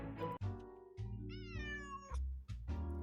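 A cat meows in the Nancy Drew video game Lights, Camera, Curses!, with several close, loud, rising and falling calls spread across a few seconds over steady low game ambience.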